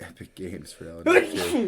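A single sharp sneeze bursts out mid-conversation during a podcast chat about game awards, loud and close, with people talking just before and after it.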